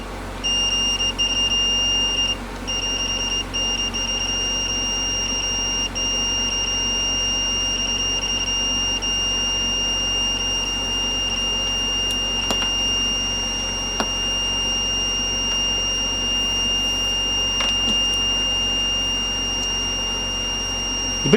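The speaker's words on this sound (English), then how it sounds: "The beep's annoying, isn't it?" Two steady high-pitched tones beep continuously from a faulty XLR karaoke microphone system, holding level with brief dropouts and a few faint clicks over a low electrical hum.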